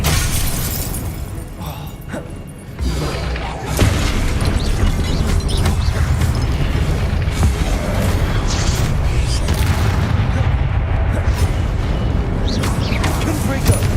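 Spells cast in combat in Hogwarts Legacy, a dense run of loud blasts, shattering cracks and booming impacts one after another, with game music and clatter underneath and no clear break.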